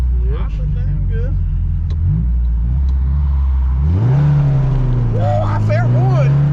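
A 1972 Ford Pinto Runabout engine, freshly fitted with a new timing belt and fuel tank, idles on hot pavement with a loud, steady low rumble that shifts pitch slightly as it settles. People talk over it.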